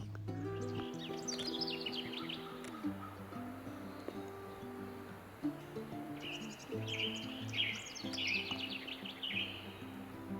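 Western tanager calling in open hillside pine forest, bright chirping phrases repeated at intervals over a steady low humming drone, fairly faint and distant.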